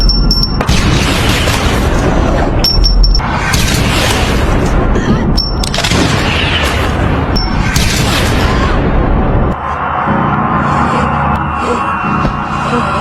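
Gunshots from a zombie film ring out as a series of loud, sharp booms and bursts over a dense, chaotic soundtrack, with shouting in between, before it drops to a lower rumbling tone.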